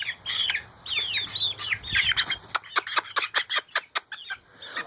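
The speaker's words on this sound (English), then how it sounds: "It's actually like clucking. Yep. A bunch of them are clucking now." Young chickens in a farm pen cluck in a busy overlapping flock, with high chirps early on and then a fast, even run of about ten short clucks close to the mic.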